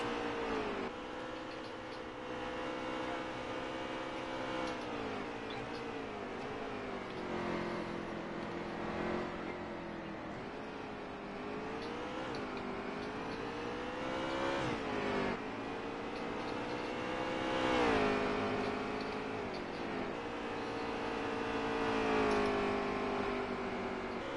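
Race trucks in a Canadian video game truck series roar continuously, their engines rising and falling in pitch as they rev and pass through turns, loud and unbroken with no talk.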